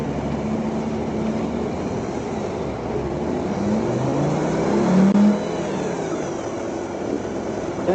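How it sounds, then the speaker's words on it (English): A car stuck in grass revs its engine as the driver tries to move it, a continuous rough motor drone that swells briefly partway through, with the sound of outdoor roadside wind around it. "He's still trying to move the vehicle, stuck in the grass."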